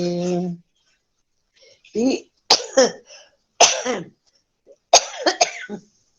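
A voice sustains a note, then several bursts of harsh coughing come in quick clusters, close and loud, separated by brief silences.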